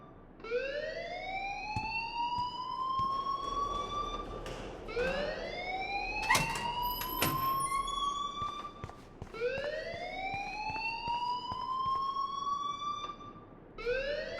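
A school alarm in the game Life Is Strange wails in long rising sweeps repeating every few seconds, loud and insistent, with faint sharp clatters between cycles.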